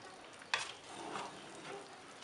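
Salmon head tom yum soup is gently stirred in a pot over low heat on a home Isan-style kitchen stove, with one sharp utensil knock followed by a soft, quiet swirl and faint bubbling.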